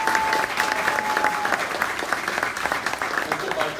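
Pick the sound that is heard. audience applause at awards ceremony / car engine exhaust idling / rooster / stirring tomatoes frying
audience applause at awards ceremony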